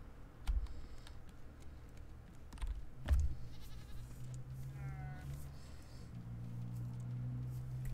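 Goats bleating in the survival video game Raft, a few short bleats standing out over a steady low game hum, mixed with keyboard clicks and thumps.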